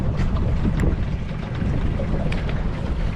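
A jon boat with its outboard motor mounted higher, running on a lake on an overcast day; a steady engine drone mixed with rushing wind and water noise, loud and continuous, no talk.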